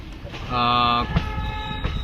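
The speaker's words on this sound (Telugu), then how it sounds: "ఏదో ట్రైన్ అయితే వెళ్తూ ఉన్నది, అది Kakinada town to Lingampalli train అయితే వెళ్తూ ఉన్నది." A Kakinada Town to Lingampalli passenger train passes at a station, sounding a short horn blast amid rumbling rail noise and background chatter.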